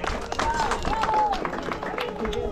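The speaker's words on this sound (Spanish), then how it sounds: "¡Fuerte aplauso!" Applause and clapping from a crowd at a fishing championship prize ceremony, honoring the women's category winner; dense clapping runs throughout under an announcer's voice and crowd chatter.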